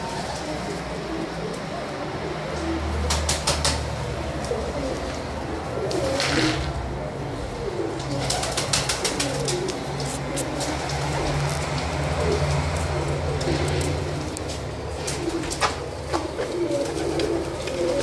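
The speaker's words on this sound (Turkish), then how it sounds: "Şekeri kanat yavru, iki sarı kanat yavrusu." Young Şekeri kanat pigeon squabs coo softly and repeatedly at close range, alongside a steady patter like rain and faint rustling.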